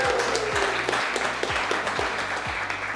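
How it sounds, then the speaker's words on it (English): At a B2B marketing awards ceremony, an audience breaks into steady, fairly loud applause, dense clapping continuing evenly for a few seconds without voices. "so a big cheer to you"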